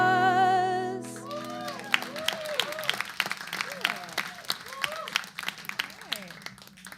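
An audience applauds at a live concert. A final sustained music chord fades into steady, fairly close clapping, with whistles or voices rising above it.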